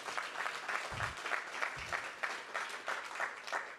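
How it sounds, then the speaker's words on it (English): A crowd at a tech startup demo day applauds an investment principal, sustained fairly faint clapping from a large audience with a couple of low thumps partway through. "Give Hugh a round of applause, okay?"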